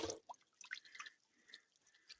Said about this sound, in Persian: از اون قندیل آب میریزه پایین